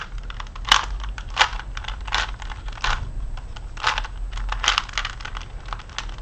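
A Rubik's Cube twisted by hand, giving a series of quick plastic clicks and clacks in irregular bursts, close and fairly quiet, with no talking.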